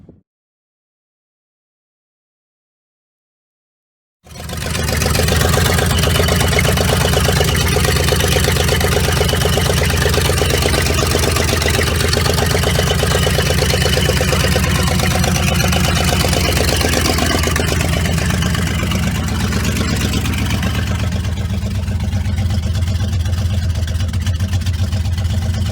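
After a few seconds of silence, an Oldsmobile Cutlass engine starts and runs steadily for the rest of the clip, a loud, close, continuous rumble with little change in pitch.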